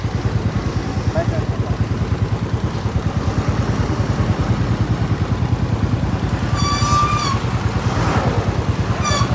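A motorcycle engine runs in a traffic jam on a road in eastern Nepal, with a close, steady, pulsing throb that continues throughout. A brief tonal beep sounds near the end.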